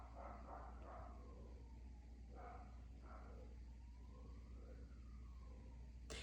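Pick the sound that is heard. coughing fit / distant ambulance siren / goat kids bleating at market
distant ambulance siren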